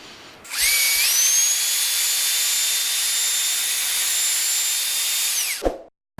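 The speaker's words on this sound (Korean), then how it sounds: "이 부착한 물걸레 청소포로 지나가게 될 겁니다." An LG A9 cordless vacuum fitted with a wet mop kit runs on polished tile, giving a loud, steady, high-pitched motor whine that switches on, holds for about five seconds, then cuts off, with no talk.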